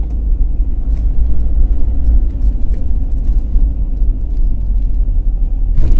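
A car cruises along a long highway route from Delhi toward Gaurikund, heard from inside as a loud, steady low rumble of engine and road noise with faint rattles, no talking.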